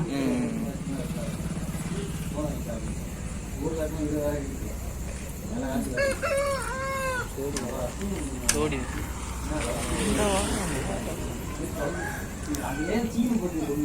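Chickens, including a three-month-old hen, cluck and squawk around a farmyard while someone talks over them, with a rooster crowing partway through.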